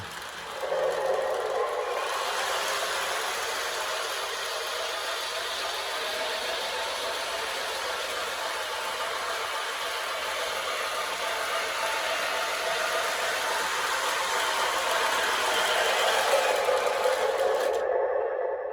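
A Menards F3 O gauge model locomotive runs at full speed with sound on, a steady mechanical whir and rumble, loud and close, with no voices over it.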